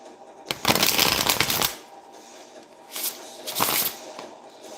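Two bursts of tarot cards being shuffled, a longer riffle followed by a shorter one after a pause, close and fairly loud with no talking.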